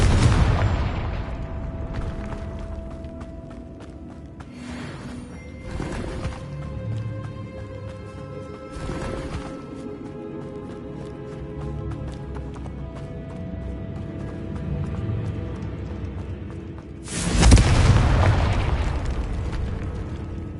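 Confringo fire-blast spell cast in the video game Hogwarts Legacy: a loud explosive burst at the start and a bigger booming blast near the end, with sustained musical score and ambient game sound in between.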